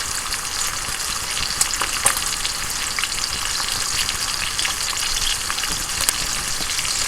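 Bacon frying in a pan with a steady, dense crackling sizzle throughout, close and even, with occasional sharper pops and no voices.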